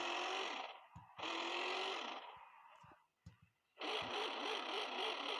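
A Daewoo Damas with swapped motors in an Uzbek car parking video game revs in loud, buzzing bursts, dropping out briefly with clicks before surging back to a high, steady drone.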